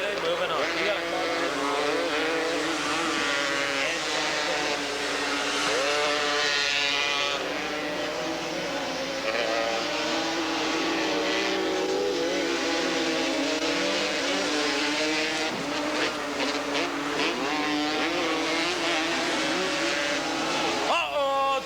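Two-stroke 200 modified class Kawasaki ATVs racing at a 1986 grand national event in Porterville, their engines a continuous buzzing roar that rises and falls under steady commentary.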